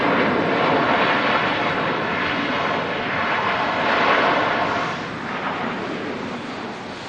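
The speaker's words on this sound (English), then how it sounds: "As the Finnair begins the departure roll to Helsinki." A Finnair airliner bound for Helsinki begins its departure roll at Manchester Airport, a loud, continuous jet engine roar that swells and then eases slightly, heard alone without voices.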